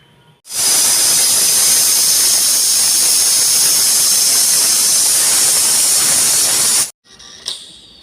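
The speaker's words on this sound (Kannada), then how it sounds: "ಮುಚ್ಚಳವನ್ನು ಮುಚ್ಚಿ ಎರಡು ವಿಸಿಲನ್ನು ಕುಗ್ಸೋಣ" A pressure cooker of rice vents steam in a loud, continuous, high-pitched hiss for several seconds, then cuts off abruptly, followed by a short faint rattle.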